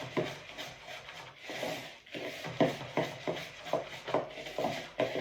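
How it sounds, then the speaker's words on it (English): A spoon stirs melted butter through biscuit crumbs in a bowl, giving a steady run of gritty scraping and rubbing strokes in an uneven rhythm, close and fairly quiet. "with a spoon you're going to stir the butter into the biscuit crumbs"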